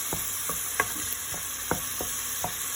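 Onions and garlic frying in a pan on the stove for pasta and lentils: a steady sizzle with scattered stirring scrapes and taps, close and moderately quiet, no talking.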